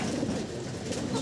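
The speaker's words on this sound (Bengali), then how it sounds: "এই যে নিচে দুটোই রেসার পায়রা, বাইরের থেকে আনা পায়রা।" Racer pigeons give a brief run of soft, low cooing inside a loft, fairly quiet and close, with no other sounds over it.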